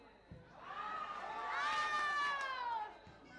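Crowd cheering and shouting at a Sahani Cup semi-final football match in Odisha, a swelling roar of many voices that builds to a peak and then fades, heard from a distance.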